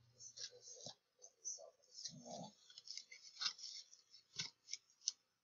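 Scissors trim excess tissue paper on a gift basket, a series of close, crisp snipping and crinkling sounds at irregular intervals, quiet overall, with a few low rustles in between.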